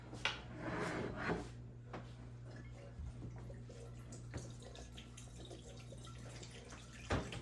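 Lemon-infused liquid from grated lemons is poured into a measuring cup and a bowl, giving soft splashing and trickling with a few sharp clinks of glassware in a quiet kitchen.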